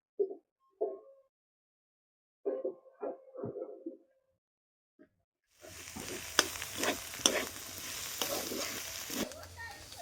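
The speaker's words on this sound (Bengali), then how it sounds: "আদাটা আমার ভাজা হয়ে গেছে" Ginger paste sizzles and fries with cabbage in a pan, starting about halfway with a steady crackling hiss broken by repeated stirring scrapes. Before that come short, sparse clatters and knocks of utensils.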